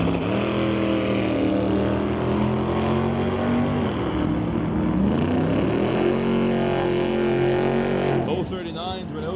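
A 1962 Chevy II roars loudly through a drag race run at a hot rod event, its engine note climbing and shifting through gears. An announcer's voice runs over the top.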